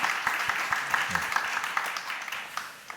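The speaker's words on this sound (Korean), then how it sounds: "축하의 박수 부탁드리겠습니다" A congregation applauds indoors at a Sunday church service, a scattered patter of claps that gradually thins out.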